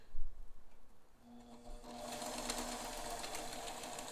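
A vintage Bernina 530 Record sewing machine starts up after a short pause and stitches steadily with a rapid, even mechanical whir, close and fairly quiet.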